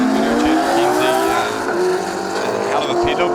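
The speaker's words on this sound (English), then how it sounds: "look at the speed from that S15. He is out the gate on those Falcon tyres nicely" A Nissan S15 drift car on Falcon tyres at a D1NZ championship round at Pukekohe, its engine note rising loud and near through a steady strained pitch climb, with tyre squeal and a commentator talking over it throughout.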